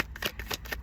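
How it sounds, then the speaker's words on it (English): Tarot cards being shuffled by hand, a quick run of soft riffling flutters repeating several times in under a second, close and clear with no talking. "Just call myself doing a pre-shuffle, a little bit on camera"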